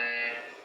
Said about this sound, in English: You don't have to start right on the beep, okay?